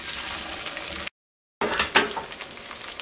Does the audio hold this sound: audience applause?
no